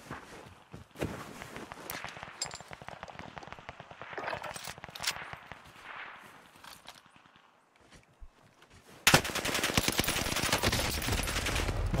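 Gunfire in the Call of Duty Warzone game on the Vanguard Pacific map, sharp repeated shots and bursts at an uneven rhythm through the first nine seconds, then a loud, dense wash of noise takes over to the end.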